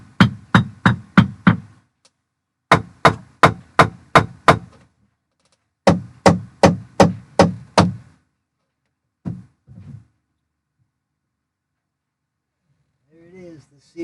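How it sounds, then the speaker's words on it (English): A mini fish bat knocks on a dock as a fishing call, sounding three quick bursts of five or six sharp, close wooden raps, followed by a couple of lone thuds and faint stirring near the end. "Let's give him the scientific fishing sound. I'm going to use my little mini fish bat."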